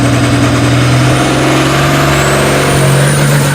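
A tractor-pull truck engine roaring close and very loud as it sets off on a short run, a constant heavy droning rumble with a strong low hum and slight rising pitch, no voices over it.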